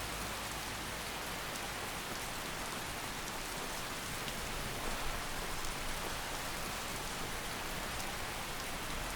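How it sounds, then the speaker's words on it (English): Steady, dense rain falls in Skyrim, a continuous close hiss of drops on the ground that holds at an even loudness throughout, with no talking. "rain."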